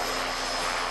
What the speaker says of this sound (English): When the helicopter leaves, it seems very quiet.